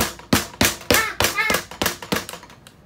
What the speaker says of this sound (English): I tried to knock on the wall.